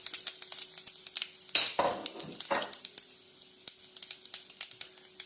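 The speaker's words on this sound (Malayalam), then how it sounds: "നമുക്കിനി നമ്മുടെ വറ്റൽമുളക് ഇടാം ആൻഡ് കറി ലീവ്സും ഇടാം" Dried red chilies and curry leaves sizzle in hot oil after mustard seeds have popped, for a bitter gourd stir-fry, giving a crackling burst with sharp scattered pops and light utensil clicks close by, with no talking.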